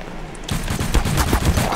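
Rapid pistol gunshots from the video game The Hidden crack out in a dense burst after a brief quiet start, several sharp shots close together at loud, near level.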